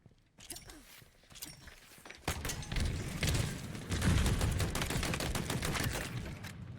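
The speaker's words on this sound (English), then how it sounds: "Machine guns suit you" Halo Infinite multiplayer gunfire in a team battle, a dense sustained rattle of rapid shots that swells louder midway and keeps going, with busy game effects layered underneath.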